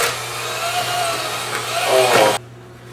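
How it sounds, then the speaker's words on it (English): An electric hand beater whirs steadily as it mixes ingredients in a home kitchen, a loud close motor drone that rises slightly before cutting off abruptly near the end, with no voices. "Now I'm going to use this electric beater to mix all my ingredients together."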